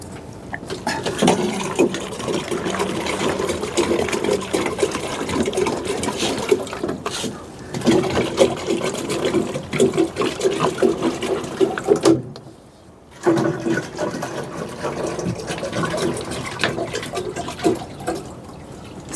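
Water pours and splashes in uneven bursts, close by, refilling drinking bowls, with a brief pause partway through before the pouring resumes.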